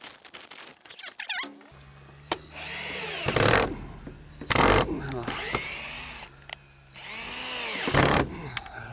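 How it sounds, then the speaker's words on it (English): A cordless drill whirs in repeated bursts driving screws into wood, its pitch sliding as it bites, with squeaks between runs and a voice talking intermittently. "This drill ain't worth a crap."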